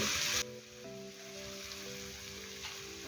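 Soy sauce and red chilli sauce hit a hot frying pan while cooking millet pasta, giving a loud, brief sizzling burst that quickly drops to a quieter simmer beneath steady background music.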